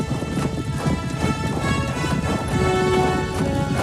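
Horse hooves clip-clop steadily over a dense wash of background noise, with a continuous rhythmic patter of hoofbeats and no voices.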